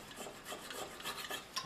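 A saw cuts halfway into a PVC pipe clamped in a vise, making a quiet, rhythmic rasping of back-and-forth strokes with no voices.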